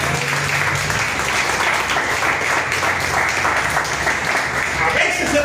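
Church congregation applauding, a dense steady wash of clapping that runs through the whole stretch, fairly loud and close, with faint voices mixed in.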